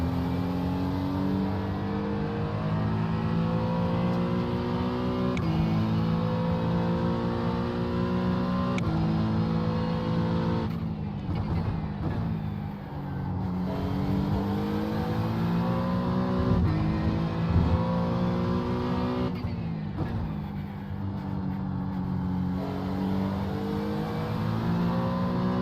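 Race cars, including LMP2 prototypes, in the iRacing game at Watkins Glen, a steady engine drone that climbs in pitch through repeated gear changes, with brief drops around shifts and other cars passing, and no voices.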